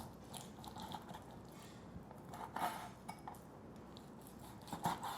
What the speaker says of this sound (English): Then turn it, cut again into bite-sized pieces.